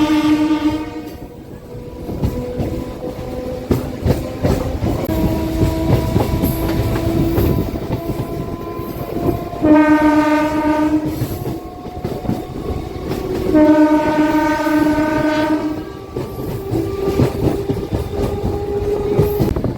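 A MEMU passenger train rolls between Machilipatnam and Vijayawada, with loud sustained horn blasts sounding in repeated bursts over the steady rumble and clatter of the moving cars.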